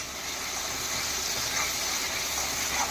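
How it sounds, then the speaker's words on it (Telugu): Ginger garlic paste sizzling in a hot pan for mushroom masala curry: a steady, close hiss of frying that holds evenly throughout, with no talking. "దోరగా వేగనివ్వాలండి"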